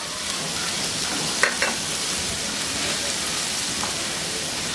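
Chopped spinach and eggs frying in a pan with a little oil and chicken powder, a steady bright sizzle with a few scraping stirs of a utensil, close and continuous without talk.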